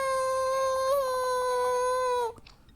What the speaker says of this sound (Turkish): Bu içeriden gelen ağlama sesleri de